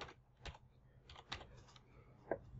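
Quiet keystrokes on a computer keyboard as a command is typed on a Windows 10 machine: a loose run of separate clicks with uneven gaps, and one sharper tap near the end.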